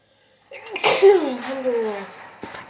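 A single loud, close sneeze bursts out sharply and trails off over about a second and a half, followed by a faint breath.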